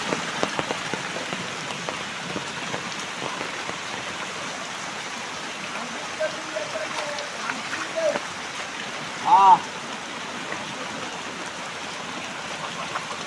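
Steady rain falling on a rural homestead, an even wash of drops and patter heard close and continuous, with a brief louder knock near the end and no clear talk.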